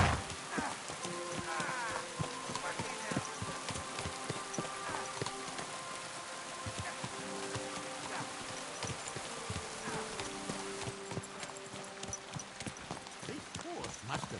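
Horse hooves clop steadily in the medieval video game Kingdom Come Deliverance 2, a continuous rhythmic trot mixed with buzzing insects, ambient outdoor noise and an occasional whinny.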